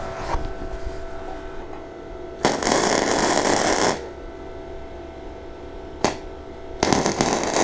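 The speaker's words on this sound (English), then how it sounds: "First, I'll make two tuck welds to join the metals." A cheap flux core MIG welder makes tack welds on two 1.6 mm thick metal profiles. It gives a steady crackling hiss for about a second and a half, then a brief blip, then another short hiss, all close by.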